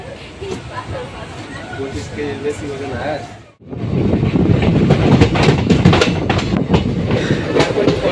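Train pulling out of Nimtita station: steady rolling rumble and rhythmic clickety-clack of wheels on rails, close and loud, with a brief dip before the noise swells again as the carriages gather speed, faint voices mixed in.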